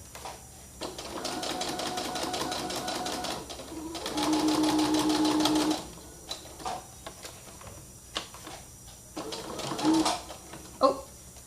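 Sewing machine stitching a fabric coaster from scraps, running in a few short rapid bursts of mechanical whirring and ticking, with pauses and some quiet talk in between.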